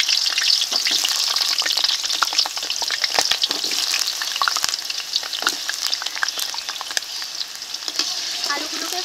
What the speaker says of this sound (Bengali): এই তেলে আলুগুলোকে ভেজে নেব।